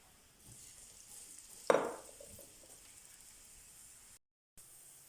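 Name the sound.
onion frying in a pan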